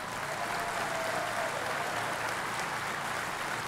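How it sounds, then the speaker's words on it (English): Cheering and sustained applause fill the Georgia House chamber for First Lady Sandra Deal at the 2012 State of the State, a dense, steady roar of clapping and crowd noise with no talk. "First Lady Sandra Deal is getting quite a cheer from the House chamber"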